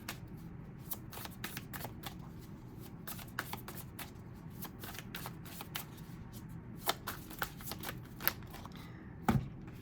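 Tarot cards are shuffled by hand in a quiet room, making a steady patter of soft riffling snaps with a few sharper taps near the end.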